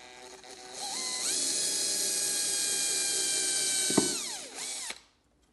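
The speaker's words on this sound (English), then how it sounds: "I drill into the center of the plug." A small drill bit bores into the center of a wooden plug in the neck of a 1971 Gretsch Gent guitar, a steady close whine with rising pitch at spin-up, a sharp knock near the end, then a sudden stop.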